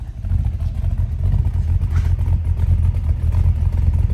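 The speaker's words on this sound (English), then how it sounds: "It's got a nice little cam sound to it." A 1958 Plymouth Belvedere's 361 big block V8 with a performance cam idles with a lumpy, loping rhythm, close and steady, its low pulsing chop continuous throughout.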